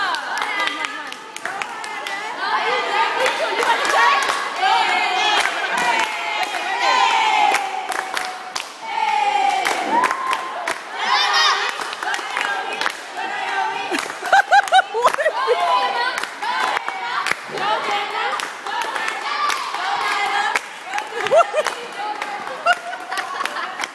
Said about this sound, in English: Let's give her a clap, guys.